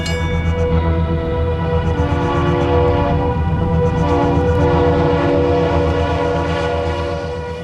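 A freight train rumbles past close by in the desert, loud and continuous, with a sustained tonal horn-like drone layered over the heavy rolling noise.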